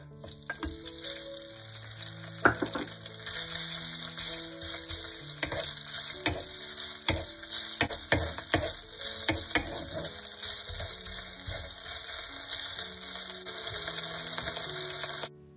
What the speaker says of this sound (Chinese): 先炒肉丝